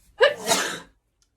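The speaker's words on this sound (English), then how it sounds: "another sneeze attack" A single sharp sneeze bursts out close by, a quick gasping intake followed by an explosive release lasting under a second, then silence.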